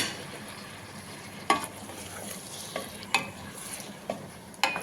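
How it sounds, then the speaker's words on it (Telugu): Blended tomato purée is poured into a mutton curry and stirred, giving a steady low sizzle with a few sharp scrapes of the spoon against the pan at irregular intervals, close and moderately quiet with no talking. "ఈ 2 టమాటాలు నేను మిక్సీ పట్టుకున్నాను. అలాగే ఇది కూడా పోసుకుంటున్నా."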